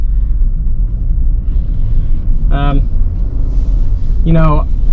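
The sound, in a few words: 2021 Ford Bronco First Edition driving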